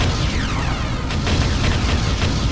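An enemy structure explodes in the Ground Control strategy game, a loud, dense blast with crackling bursts that keep coming through the rumble, with no voices over it.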